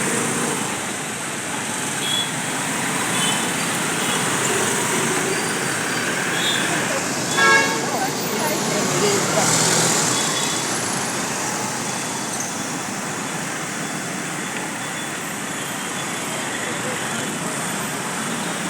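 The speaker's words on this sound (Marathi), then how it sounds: "फुल ट्राफिक जाम होता" Jammed city road traffic in Panaji: a steady, dense roar of idling and crawling cars, trucks and buses, with a brief horn toot and louder passing vehicles around the middle.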